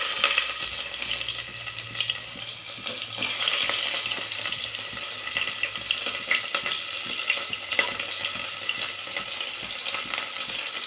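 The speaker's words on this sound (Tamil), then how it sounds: "இப்போ வெங்காயத்தை போட்டுடலாம்." Chopped onions fry in hot oil in a pan for brinjal sambar, a continuous close sizzle with occasional sharp crackles and light stirring, no speech.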